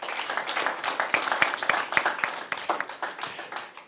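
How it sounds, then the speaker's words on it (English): An audience claps for debate teams after a round, steady dense clapping with sharp individual strikes, close and fairly loud throughout. "a round of applause for both teams"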